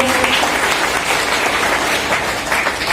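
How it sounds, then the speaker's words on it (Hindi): Dense, loud audience applause at a business celebration event, a continuous wash of clapping that holds steady throughout without a break. "मैं चाहता हूं उनके लिए जोरदार तालियां हो।"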